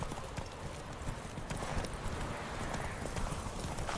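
Roach, the horse in the video game Witcher 3, trots in a quick, steady clip-clop of hooves, close and continuous throughout.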